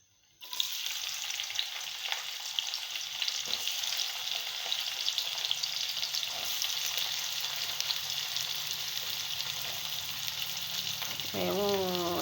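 Onions dropped into hot tempered oil with mustard seeds, for an egg pulusu, crackle in a loud, steady broadband sizzle that starts abruptly and holds without pause, with a brief utensil scrape near the end.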